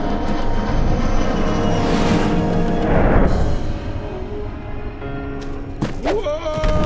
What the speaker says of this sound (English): It was just an airplane.